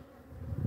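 Honeybees at an opened hive give off a faint, brief, steady buzz that swells slightly toward the end.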